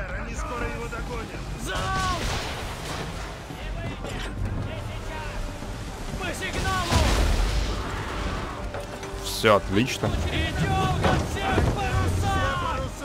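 Sea waves and surf in Assassin's Creed 3, a steady broad wash of rushing water and wind that swells toward the middle, with someone talking over it.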